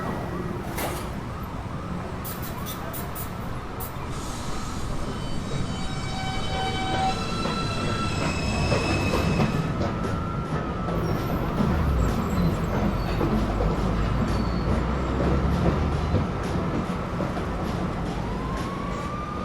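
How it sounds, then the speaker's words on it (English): NYC subway 2 train pulling out of the station at Beverly Road, a loud sustained rumble of wheels and motors with squealing tones and hiss, steady throughout and close by. "This is a Rose Street bound 2 train."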